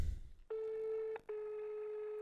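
A telephone line tone sounds in two long steady beeps with a short gap between, clear and alone after a brief low rumble at the start.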